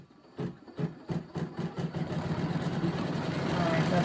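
A sewing machine stitching thread into fabric, starting in a few stuttering bursts before settling into a steady, continuous run that grows slightly louder, close by.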